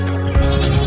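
Katahdin sheep on a spring farm, one short loud close bleat breaking over a steady background hum, with no talking.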